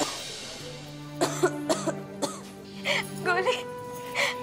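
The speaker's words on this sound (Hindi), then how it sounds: "जो भी पेशेंट आ रहा है बहुत बुरी तरह खांस रहा है" Several coughs from a sick patient in a crowded clinic queue in a village, sharp bursts spaced irregularly over a few seconds, with voices and a steady tone underneath.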